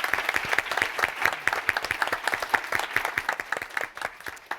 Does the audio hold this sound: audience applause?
yes